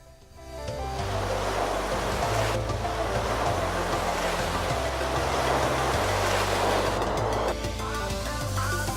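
Waves wash onto a big beach at Bentota in Sri Lanka in a broad, continuous roar of surf, with background music audible underneath and no talking.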